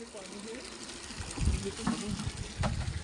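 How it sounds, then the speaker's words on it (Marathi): Water gushes steadily into a drum from a water supply, a continuous rushing, splashing flow beneath people talking nearby. "पटापटा भरून घ्या भाऊ ड्रम तुमचं"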